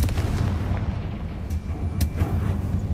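Confringo fire-blasting spell going off in the Hogwarts Legacy game: a continuous deep, rumbling roar punctuated by a couple of sharp explosive bursts, loud and close, with no voices.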